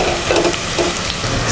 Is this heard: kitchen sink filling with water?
no